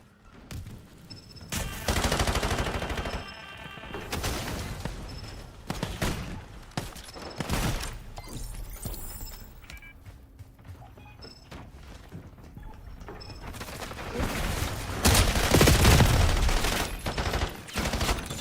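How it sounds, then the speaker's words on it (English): Rapid bursts of automatic gunfire and explosions from a Battlefield-style military shooter game, loud and dense at the start, easing into scattered shots, then building again into heavy firing near the end. "I'm missing too many easy shots"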